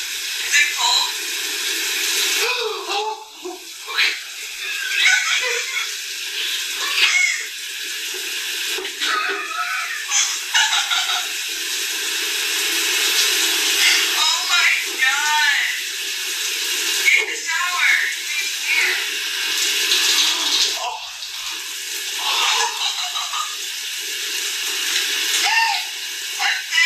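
Steady spray of running shower water, a continuous broad hiss throughout with small splashes and shifts as something moves through the stream.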